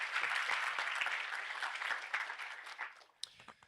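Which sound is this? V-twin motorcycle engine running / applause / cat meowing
applause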